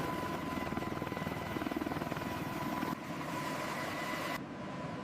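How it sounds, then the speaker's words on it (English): Apache helicopters taxiing on a military tarmac, with a steady, close, loud rotor chop and engine whine that shifts slightly midway, with no voices. "On the tarmac, Apache helicopters taxi,"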